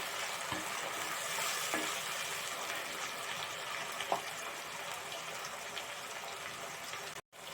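Tomatoes frying in a pan for fish curry give a steady close sizzle, with a few faint scraping stirs across it.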